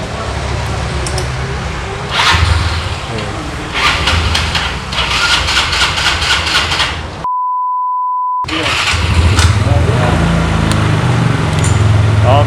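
A 2012 Yamaha Mio carburetor scooter engine is started with its electric starter and runs with a low idling rumble that swells in bursts, broken by a long steady beep, while someone talks over it.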